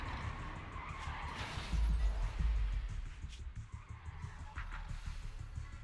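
A vehicle skids hard during a crash in Zenless Zone Zero, a loud rasping tire screech swelling midway over a low engine rumble, then fading into rough road noise.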